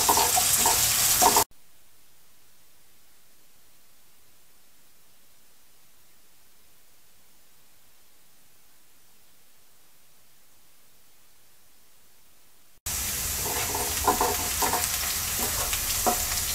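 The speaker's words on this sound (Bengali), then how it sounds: "পেঁয়াজটাকে হালকা ভেজে নেব।" Chopped large onion sizzles loudly in hot oil in a pan, a steady close frying hiss broken by a long stretch of near silence in the middle before the sizzle returns; no talking.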